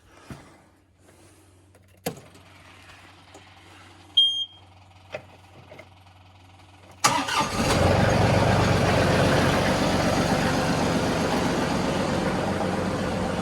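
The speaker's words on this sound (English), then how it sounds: "It's quite warm out now, so this is not going to be a cold start for the John Deere." A John Deere tractor engine starts on a snowy farm after a few scattered clicks and knocks, then runs at a steady, fairly loud idle close by.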